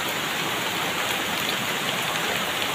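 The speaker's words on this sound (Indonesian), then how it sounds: "Hujannya turun-turun ya." Steady rain pours down during a natural disaster in Bogor, a dense, even hiss of falling water that stays constant and close throughout, with no voices.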